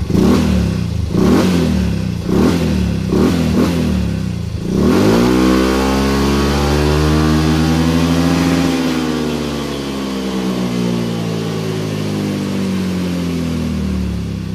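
A remapped Yamaha M3 motorcycle engine revs near the mic: several quick throttle blips first, then one long sustained rev that rises and falls in pitch, loud and steady throughout with no talk.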